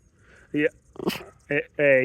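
A dog gives a few sharp barks and yips, close by and loud, with a person speaking briefly in between.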